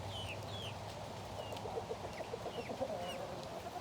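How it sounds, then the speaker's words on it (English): Chickens and roosters on a small farm cluck and call in a close, busy chorus, with repeated short clucks and occasional higher squawks over a steady outdoor background and no talk. "I really think that we have several roosters here, like that one in the back right there."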